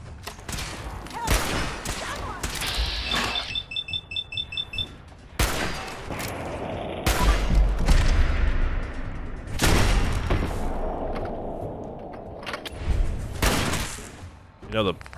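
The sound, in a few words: gunfire in a video game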